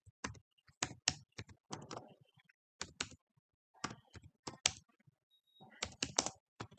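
Rapid typing on a computer keyboard, close and fairly quiet, with irregular bursts of key clicks and short pauses between words, no voices.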